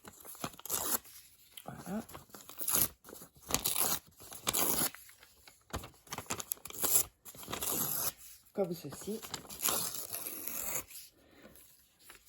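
Paper edges are torn or cut in repeated rough bursts of rasping and crinkling at close range, with a voice speaking briefly between them.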